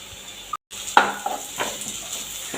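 Curry leaves drop into onions frying in a pan, giving a short crackling sizzle with a few light clinks of a spoon against the pan over a steady background hiss.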